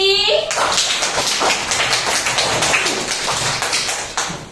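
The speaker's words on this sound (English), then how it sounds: "Clap for team C." Children clap together in a classroom to cheer a team, a brisk run of claps following a short voice at the start.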